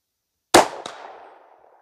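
A single loud rifle shot at a shooting range, a sharp crack followed by a second quick report and a fading echo in otherwise quiet surroundings.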